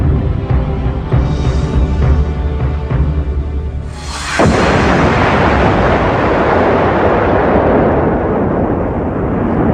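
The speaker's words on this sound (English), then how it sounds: "The moment the torpedo hit," A torpedo explosion against a ship at sea erupts suddenly after a stretch of low droning rumble, then a loud, sustained roar and crackling wash of debris and water rolls on and slowly fades.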